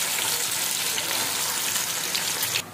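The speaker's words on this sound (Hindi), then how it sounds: "यहाँ पे देखिए सोयाबीन मेरी जो है फ्राई हो चुकी" Soybean chunks frying in hot oil, a steady, close crackling sizzle that runs continuously before dropping off abruptly at the end.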